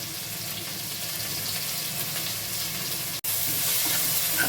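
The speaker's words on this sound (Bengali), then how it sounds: "আলুর সঙ্গে এখন আমি টমেটোটাও দিয়ে দিলাম, একসাথে একটু ভাজা হয়ে যাবে।" Potatoes and tomato fry together in oil in a pan as the base for a Bengali fish curry, a dense, continuous close sizzle broken by one sharp click near the end.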